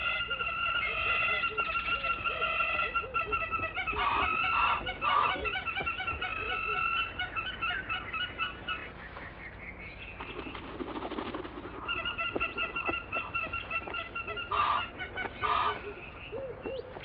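Hammerkops perform an excitement display at their nest in Africa, keeping up a continuous shrill, piping chatter with louder rhythmic stretches and brief pauses, heard up close.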